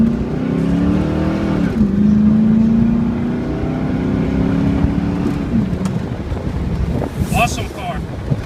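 A red 2000 Pontiac Firebird Trans Am runs with a steady engine hum and rising and falling tones, loud and close, with wind buffeting throughout.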